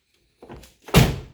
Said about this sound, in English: And the door shuts nicely.